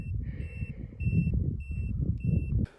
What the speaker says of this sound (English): she's beeping out the altitude.